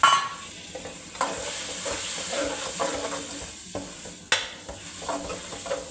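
Chopped tomatoes fry in a spiced ridge gourd masala, a steady close hiss and sizzle broken by occasional stirring knocks against the pan.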